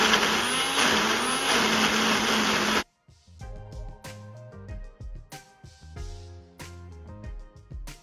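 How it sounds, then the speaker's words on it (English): A blender runs loudly for about three seconds, whirring steadily while pureeing homemade fish food, then cuts off abruptly, leaving quieter clicks and thumps behind. "so let's get on with the blending."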